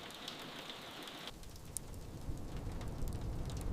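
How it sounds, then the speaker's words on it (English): Steady rain drums on a metal roof as a dense, even hiss of close patter that swells slightly louder toward the end, with no voices. "a steady rain began to drum against the metal roof"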